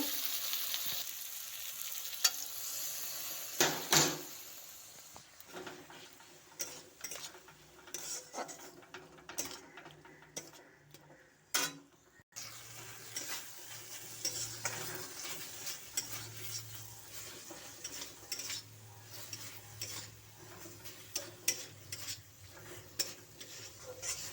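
Pasted spice masala for ghugni frying in a pan while being stirred, with a soft continuous sizzle, scraping strokes and occasional clanks of the spoon against metal, a few sharp knocks early on, no talking.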